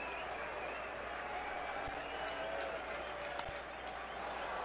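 Sellout opening night baseball crowd at Chase Field on its feet, a steady roar of cheering and applause filling the stadium, with a broadcaster's voice talking over it.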